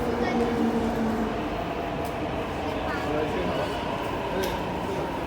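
A C train runs steadily at Tai Shui Hang Station, a constant rumbling roar of wheels and motors with faint rail clatter, and a voice speaks briefly over it.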